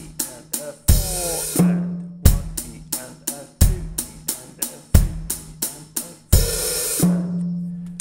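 Drum kit playing a 16th note rock groove from a song intro, with crisp hi-hat strokes, punchy kick and snare hits and occasional crash cymbals in a steady rhythm, played alone.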